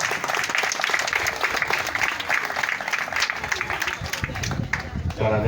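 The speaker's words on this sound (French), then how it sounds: "Applaudissez s'il vous plaît." Applause from a crowd at a scouts' reunion in Dagana, Senegal, a steady dense clatter of many hands clapping, with voices mixed in underneath.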